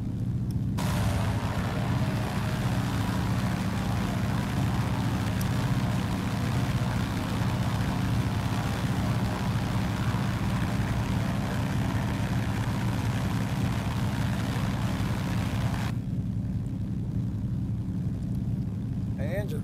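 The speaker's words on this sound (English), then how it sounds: "engine sounds are pretty loud" A steady, loud piston engine drone with a propeller hum from a de Havilland DHC-2 Beaver floatplane in the X-Plane flight simulator, running continuously without letup, then dropping suddenly near the end.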